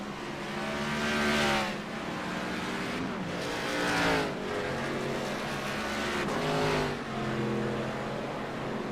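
Race cars in the IROC Challenge Series at Darlington accelerate together at the green flag, a loud, sustained multi-engine roar with rising revs swelling in waves as the pack pulls away.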